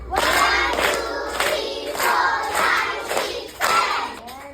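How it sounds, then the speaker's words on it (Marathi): A class of first-grade children claps together in a rhythmic series of sharp bursts for a classmate's birthday, with excited young voices mixed in close by. "मग 7 टाळ्या वाजवा."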